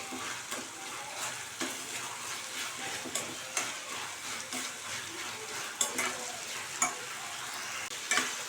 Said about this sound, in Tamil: இந்த கிரேவிக்கு தேவையான அளவு உப்பு சேர்த்து வதக்கி விடலாம்